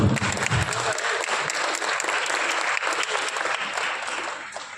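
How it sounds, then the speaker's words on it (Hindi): A theatre audience gives loud, dense applause for the director of a comic stage play performed by indirect tax department officers; the clapping holds steady for the whole stretch and tapers slightly at the end. "तो डायरेक्टर के लिए एक बार जोरदार तालियां हो जाए।"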